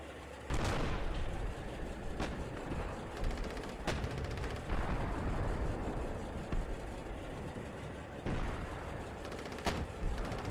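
Gunfire and artillery in a video game's Iraqi armoured highway battle: loud, sustained shooting with sharp bursts and occasional heavy blasts, a dense continuous barrage lasting throughout with no talking.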